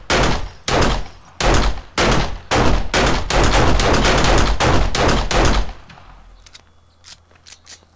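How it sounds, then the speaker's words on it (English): Standard 9mm pistol fired in the video game 7 Days to Die, a run of about ten loud, sharp shots in quick uneven succession, then several fainter, scattered pops trailing off. "here is the pistol in my hand right now. It's kind of your standard 9mm pistol"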